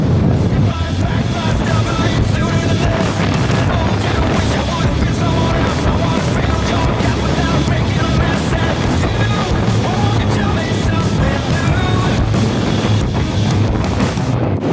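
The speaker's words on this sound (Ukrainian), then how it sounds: "Вітер все одно дуже дуже сильний." Strong mountain wind on the climb to Hoverla roars steadily into the microphone, a constant loud rumbling buffet that fills the whole clip, with faint voices barely audible beneath it.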